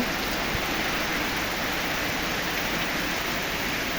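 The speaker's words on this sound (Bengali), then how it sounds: "ভেজা ঘাসে বৃষ্টি" Heavy rain pours down onto wet grass in a dense, unbroken hiss, loud and close, with no pauses or other sounds.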